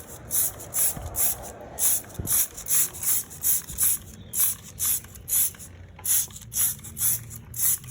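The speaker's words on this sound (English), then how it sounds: "because you spray at the top, it'll eventually make its way and run down on its own" Foaming wheel cleaner sprayed onto the wheel of a 2016 Mustang GT: a steady series of short hissing trigger-sprayer bursts in a regular rhythm, close and fairly loud, with faint handling noises in between.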